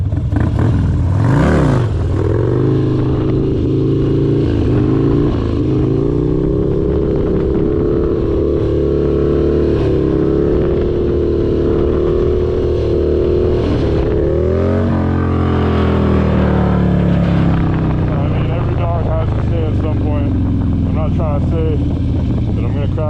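Harley-Davidson bagger motorcycle engine droning steadily while riding, pitch shifting as speed changes, with a continuous loud rumble throughout; a voice talks over it.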